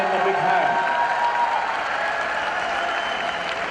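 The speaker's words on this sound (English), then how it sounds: "Let's welcome them once again with a big round of applause" An audience at the ABU Robocon India national robotics contest applauds in a sustained wash of clapping, with a voice talking over it near the start.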